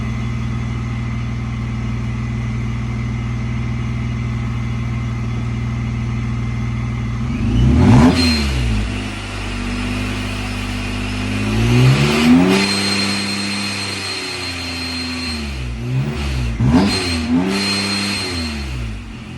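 A loud car engine with a straight pipe running from the catalytic converter idles roughly, then revs sharply several times in short bursts, each rev rising and falling back to idle.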